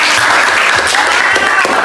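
Students clap together in a classroom, producing a loud, close wash of dense applause that stays even for about two seconds.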